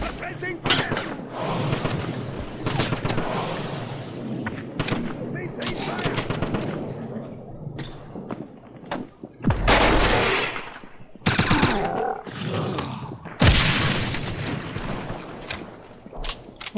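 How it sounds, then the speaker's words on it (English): Enemy gunfire in the Wolfenstein (2009) shooter game, with loud rapid machine-gun bursts and single shots coming in waves, plus heavy blasts around the middle and end, with a voice over some of it. "What is shooting me?"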